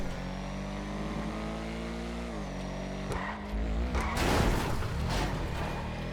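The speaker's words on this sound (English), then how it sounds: "if anyone knows about working on an engine, you want to turn it over and see how it sounds" A car engine in Grand Theft Auto V runs with a steady droning hum and a rising revving note, then grows rougher and louder toward the end, with no talking over it.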